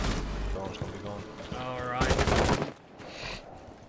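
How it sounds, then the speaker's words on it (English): Rapid bursts of automatic gunfire in the video game Rainbow Six Siege, loud and close, with a dense rattling volley and sharp cracks, a voice talking over the shots. "Like Vapor is shooting at random pieces of wood"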